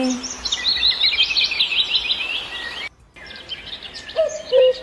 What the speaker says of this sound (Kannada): ಪಕ್ಷಿಗಳ ಕಲರವ ಕೇಳಿಸ್ಕೊಳ್ಳಿ